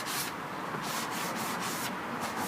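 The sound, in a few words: hand sanding wood with fine grit pad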